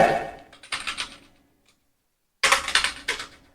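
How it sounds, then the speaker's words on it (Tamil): Fingers type on a computer keyboard during an online typing test, with quick bursts of close, crisp key clicks, a pause of about a second of silence, then another rapid flurry. "இப்ப இந்த கமாவை நான் உதாரணத்துக்கு டைப் பண்ண போறேன்"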